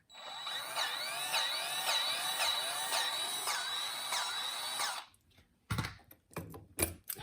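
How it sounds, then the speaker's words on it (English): A grease gun with a Saker coupler locked onto a zerk fitting pumps grease in a steady whirring drive with rhythmic pulses for about five seconds, followed by a few sharp handling clicks. "Now go ahead and give it a little bit of grease there."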